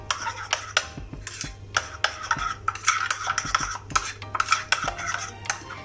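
Potatoes are mixed with pepper and spices in a pan for a restaurant-style potato fry, giving irregular metallic clinks and scrapes of a spoon against the pan, close and fairly loud, with no talking.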